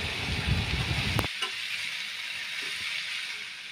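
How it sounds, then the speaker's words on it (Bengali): Chopped potatoes fry with onion and green chili in hot oil, giving a loud, steady sizzle. A sharp knock about a second in cuts the low rumble as the pan is stirred, then a softer hiss continues. "আলুটাকেও পেঁয়াজ আর লঙ্কার সাথে ভালো করে নাড়াচাড়া দিয়ে একটুখানি ভেজে নেব"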